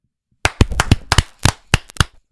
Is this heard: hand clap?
yes